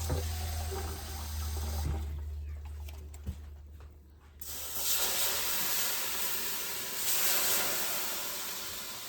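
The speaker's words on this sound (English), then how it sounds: "I'm gonna put just a little bit, not much, of water in the bottom." Water pours into the bottom of a roasting pan holding a chicken, a steady running splash that pauses briefly midway, then resumes at full strength over faint background noise.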